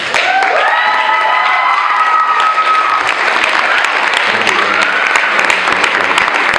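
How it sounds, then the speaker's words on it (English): Students and guests at a Talbot Middle School assembly give loud, continuous applause with some cheering mixed in, while a few voices call out near the end. "Please give another round of applause to the United States Attorney Carmen Ortiz."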